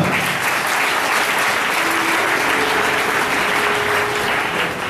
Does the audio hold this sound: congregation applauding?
yes